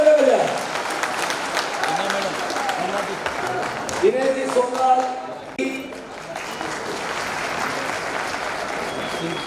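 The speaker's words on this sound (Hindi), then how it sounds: "जोरदार तालियां बजाएं।" Audience applause at a municipal ceremony in Udaipur honouring sanitation workers, sustained clapping from a crowd filling the whole clip while a voice speaks over it through a loudspeaker.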